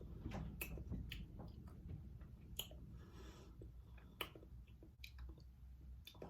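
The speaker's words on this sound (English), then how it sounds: "if y'all hear some like, that's literally, yeah, eating something saucy" Someone eating a saucy king crab seafood boil up close: wet squishing chews and small sharp clicks and smacks scattered irregularly, quiet and intimate with no talking.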